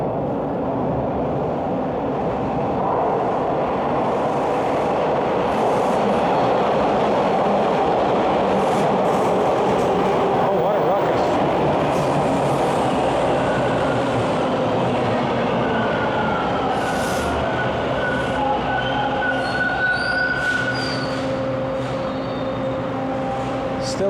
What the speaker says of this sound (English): There goes the Kipling train out of the station.